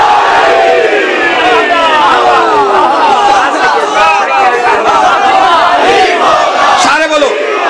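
A large crowd at a Shia religious gathering chants "Haidari" at full volume. Many overlapping voices rise and fall together in a loud, continuous roar.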